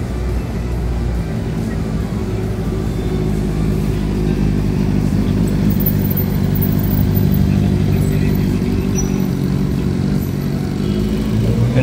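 A Porsche Turbo's engine rumbles low and steady at a Cars & Coffee meet in Manila, a loud, close idle with a slight rise near the end and faint crowd voices underneath.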